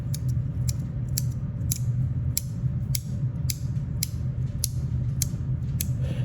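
A polished-finish haptic fidget coin from Hei Mao is turned in the hand, giving a steady run of light, crisp clicks over a soft low rumble of handling, close and without speech.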